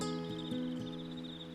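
Cicadas chirp in trees as a steady, shrill, continuous drone. It holds at an even level throughout under a faint low hum.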